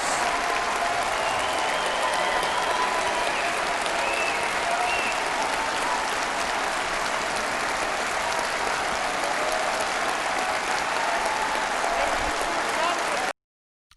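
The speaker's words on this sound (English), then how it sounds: "It looked like probably the vast majority of the crowd were standing on their feet clapping Keir Starmer" Conference audience applauding Keir Starmer, a dense, sustained wall of clapping from a large crowd that continues steadily for the whole stretch before cutting off abruptly at the end.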